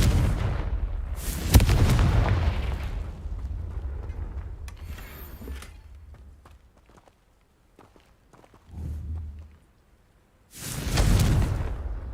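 Spell explosions in the Hogwarts Legacy video game erupt in loud booming bursts, two big blasts separated by rumbling, debris-like crackles and a softer mid-clip thud.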